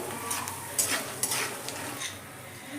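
Peanuts frying in a pan over medium heat for a spiced puffed-rice snack, giving a steady soft sizzle with scattered stirring scrapes and light clinks, close and moderately quiet.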